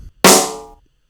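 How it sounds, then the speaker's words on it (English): A single metallic drum and bass snare sample hits hard and bright, then rings out in a long, slowly decaying metallic tail lasting about half a second, clean and alone. "And now I bring the tail back in."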